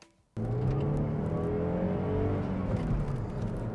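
A 2000 Saab 9-3 Viggen engine cranks and catches, then settles into a steady, close idle with a strong low hum and a slight rev around the middle.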